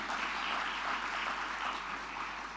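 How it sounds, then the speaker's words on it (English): Audience applause at a formal farewell program for an ambassador, a steady, even wash of many hands clapping, moderately distant and continuous throughout with no voices over it. "Give a big round of applause."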